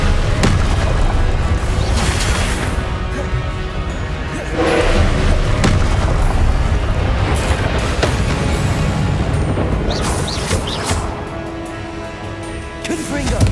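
Hogwarts Legacy duel with Confringo and Expelliarmus spells cast over and over, loud spell blasts booming and thudding in close succession over a continuous, busy combat background.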